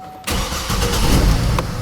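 A car with a freshly fitted air cleaner cranks and catches almost at once, settling into a loud, slightly rough idle close to the microphone.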